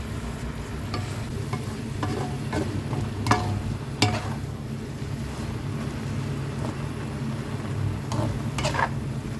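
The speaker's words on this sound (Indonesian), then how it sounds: "Kemudian diaduk-aduk lagi supaya bumbunya tercampur rata." Stir-fried vegetables with salty canned fish scraped and tossed in a pan, a continuous frying hiss under a low rumble, broken by several sharp spatula clacks against the pan, with no voices.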